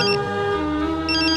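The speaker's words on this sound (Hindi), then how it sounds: "नाश्ता करने बैठे नहीं, अंजलि का फोन आ गया" An incoming call rings on a mobile phone as a continuous electronic melodic ringtone with sustained tones, loud and close, with no talk over it.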